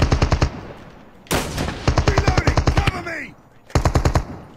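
Automatic weapon fire in the battle royale mode of Call of Duty Mobile, rapid bursts of loud shots stopping and restarting several times, with a brief break of other game sounds between volleys.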